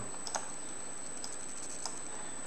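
Soft keystrokes tap on a computer keyboard while a curve is set up in Grasshopper, a few sparse, faint clicks over a steady background hiss.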